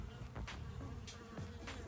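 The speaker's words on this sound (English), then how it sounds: "They're working this comb over pretty good, chewing the cappings off and stealing honey out of it." Honey bees robbing honey from an old comb hum and buzz faintly nearby, a soft continuous drone with a few individual bees buzzing past.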